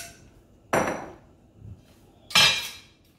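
Metal lid set onto a cooking pot of pineapple, ginger and orange drink, giving two loud close clattering clanks about a second and a half apart, with a faint knock between them.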